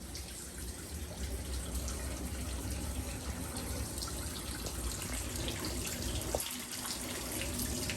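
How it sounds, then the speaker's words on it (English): Dirty drain water from a neighbour's washing machine backs up in a Los Angeles apartment, making a steady, close rushing and gurgling flow that runs on without pause. "I'm assuming it's someone's washer because it's backing up with like food chunks in it"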